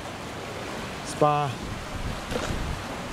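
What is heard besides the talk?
water running off villa pool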